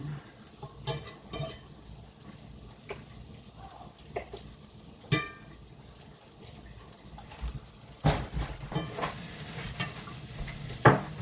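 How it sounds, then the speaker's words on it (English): Food sizzles and fries in a single skillet while being stirred, with soft scraping knocks and occasional louder clanks against the pan, close and with no voices. "Just going to do everything in this one skillet right here."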